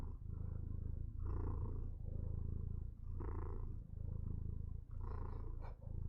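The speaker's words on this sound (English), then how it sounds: "Can you hear her purring?" A house cat purrs loudly and close to the microphone, a deep rhythmic rumble rising and falling with each breath in even cycles of about a second and a half, with no talking.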